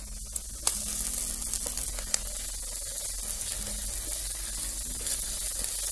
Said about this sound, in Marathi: आमचं तेल सुटेपर्यंत चांगला भाजून घ्यायचं।